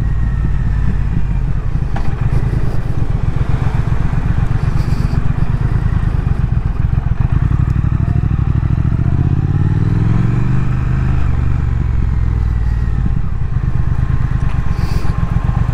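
A Triumph Thruxton R motorcycle engine runs steadily in sport mode, a loud, close, continuous throbbing rumble with a gradual rise in revs partway through, no talk.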